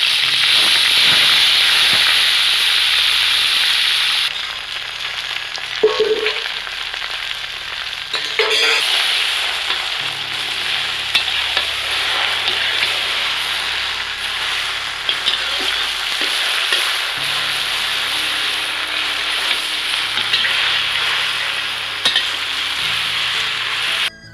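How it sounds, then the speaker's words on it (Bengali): Taro leaves fry with dried chillies and garlic in a hot pan, giving a loud, steady sizzle and hiss with occasional stirring scrapes throughout, and no talking. "শুকনো লঙ্কাটা আমি দিয়ে দিচ্ছি তিনটে শুকনো লঙ্কা রয়েছে আমি রসুনটা দিয়ে দিচ্ছি"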